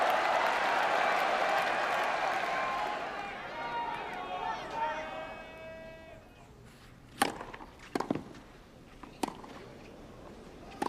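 The Roland Garros crowd roars during a 2013 clay-court match between two players, loud at first and fading after a few seconds. A few sharp racket-on-ball hits follow, with a commentator speaking.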